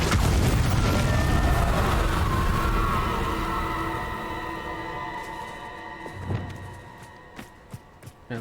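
Incendio fire spell cast in Hogwarts Legacy, a loud roaring whoosh that swells and slowly fades with ringing tones, followed by a few scattered sharp pops and knocks.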